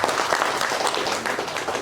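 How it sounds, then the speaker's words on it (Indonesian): A crowd at a district government aid handover ceremony in Purworejo claps steadily and fairly loudly, a dense continuous burst of applause with no pauses. "Tepuk tangan untuk Jawa Tengah."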